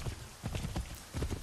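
Horse hooves clip-clop at a brisk gallop in Assassin's Creed 3, quiet rhythmic thuds arriving in short clusters.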